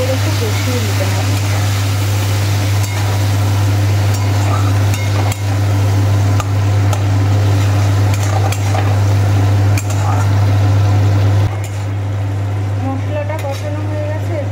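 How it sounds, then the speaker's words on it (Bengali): Cumin spice paste is sautéed in a pan with a splash of water and stirred, giving repeated scraping and clinking of a utensil over a constant low hum. Someone speaks intermittently throughout. "এবার এটাকে ভালো করে একটু কষিয়ে নিতে হবে।"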